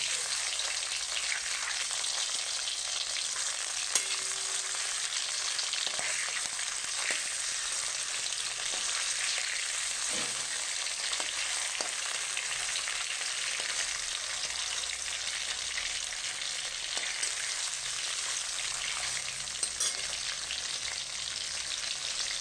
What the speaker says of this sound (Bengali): আমি এইভাবে সব মাছগুলো ভেজে নেব।